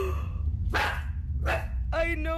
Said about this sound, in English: The dog is barking because the chair is rocking